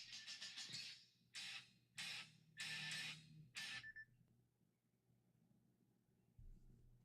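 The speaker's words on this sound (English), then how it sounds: "That was the alarm" An alarm sounds in about five bright, evenly spaced bursts of rapid beeping over roughly four seconds, fairly clear above a quiet hum, then stops, leaving near silence.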